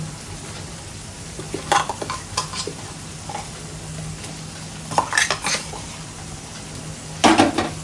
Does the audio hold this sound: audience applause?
no